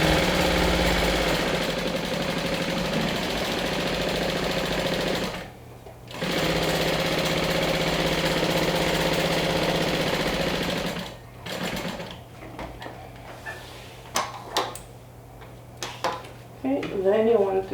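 A sewing machine runs a 1/4 inch seam on a fabric wand holder, a loud steady motor whir broken by a short pause, then stopping, followed by scattered clicks and handling noises.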